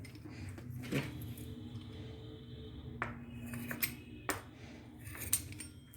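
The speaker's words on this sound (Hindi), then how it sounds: "ब्रेड को काटेंगे, स्लाइस को उसको काट के तैयार करेंगे, इसके पीस करेंगे" Knife slicing through bread on a board while preparing butter masala toast: quiet scraping strokes with a few sharp clicks and taps of the blade, close and faint, with no talking.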